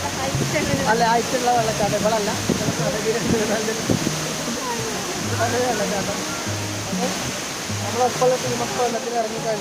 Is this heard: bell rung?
no